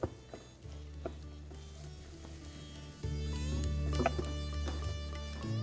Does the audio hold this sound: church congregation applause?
no